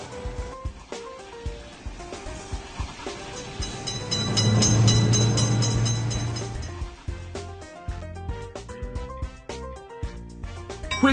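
A train rumbles past a railroad crossing in the Railroad Crossing mobile game, swelling to a loud low roar at mid-clip and fading, with looping game music and chiming effects running throughout.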